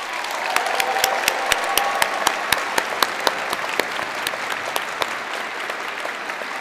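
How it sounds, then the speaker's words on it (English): A high school graduation audience for the class of 2025 applauds steadily, a dense wash of many hands with sharp individual claps popping out, sustained and fairly loud throughout. "If you could all join me in giving the parents or guardians of the graduating class of 2025 a round of applause."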